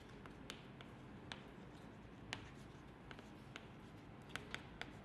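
Marker or chalk writes a math formula on a board during a calculus lecture on limits, heard as faint scratchy strokes and several light taps against steady room noise, with no speech.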